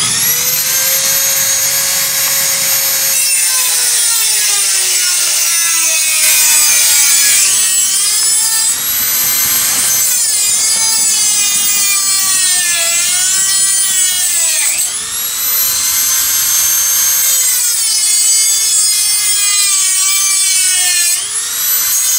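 A Dremel rotary tool cuts through wood with a loud, continuous high-pitched whine whose pitch sags and rises as the bit bites and eases off, close up and alone for over twenty seconds.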